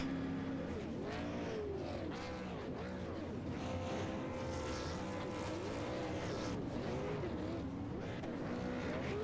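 Race car in an iRacing sim race at South Boston, tires squealing and engines revving through celebratory burnouts, a continuous loud mix of wavering engine tones and screeching slides with other cars droning nearby.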